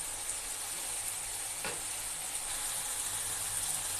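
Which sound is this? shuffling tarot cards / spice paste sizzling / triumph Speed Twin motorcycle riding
spice paste sizzling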